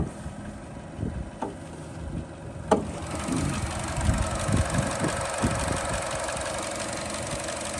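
A 2018 Chevrolet Trax with a 1.4 engine idles under the open hood, a low steady hum after a couple of sharp clicks and clunks, heard close with no talking.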